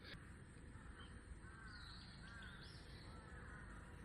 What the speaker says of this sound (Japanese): この野鳥のさえずり、やっぱいいですね。